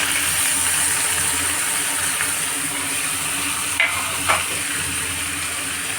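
Chopped bottle gourd and potatoes sizzle in hot oil in a pan as they are stirred, a steady loud frying hiss with a couple of brief utensil scrapes near the end.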